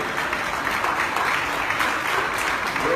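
A crowd at a talk-and-tell session with Sri Sri Ravi Shankar and Dr Naresh Trehan breaks into loud, sustained applause, a thick continuous wash of clapping with no break.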